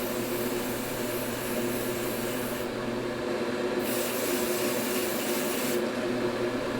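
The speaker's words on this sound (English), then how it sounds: "So just spraying on away." Steady hissing of an aerosol spray can painting a model car in a folding airbrush spray booth, long continuous bursts pausing briefly between sprays, with a low fan hum underneath.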